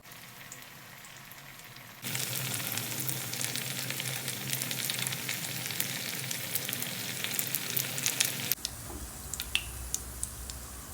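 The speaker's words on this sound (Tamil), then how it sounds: "இப்போ இத நாம எண்ணெயில போட்டு பொரிச்சு எடுத்துறலாம்." Aval vadai, flattened rice fritters, dropped into hot oil, setting off a sudden loud crackling sizzle that stays busy and close for several seconds, then eases to a softer bubbling fry.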